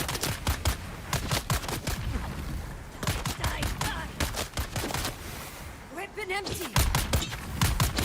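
Non-player characters firing guns in the video game Dune: Awakening, rapid bursts of sharp gunshots in quick repeating volleys, loud and close, with a player's voice exclaiming partway through.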